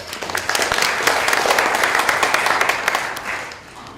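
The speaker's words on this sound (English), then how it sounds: "Give him a big applause." Public health conference audience in the Asia Pacific applauding an award recipient, a fairly loud burst of hall clapping that holds steady and then tapers off at the end.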